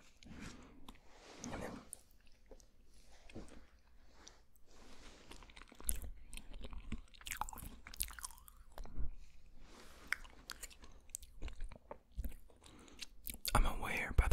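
Close, wet mouth sounds from someone eating ice cream, soft smacking and licking in irregular bursts, mixed with quiet speech.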